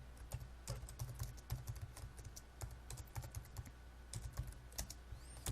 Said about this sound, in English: And let's type some stuff here.